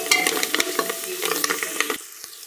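Spices are stirred into veg pulao frying in a pan, giving a close, busy sizzle broken by rapid scraping clinks of a spoon, which ease off near the end, with no voices.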